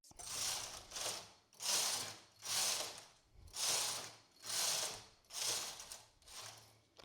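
Knitting machine carriage swept back and forth across the needle bed for six rows of an openwork cable-and-ladder pattern, seven rhythmic whooshing, clattering passes of steady pace, close and fairly loud with no talking.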